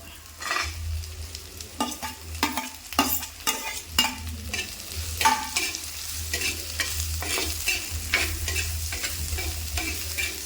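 Onion goes into hot oil with ginger, garlic and green chilli for a bitter gourd curry, crackling and sizzling loudly up close while a spoon stirs and scrapes in irregular bursts, with a low hum beneath.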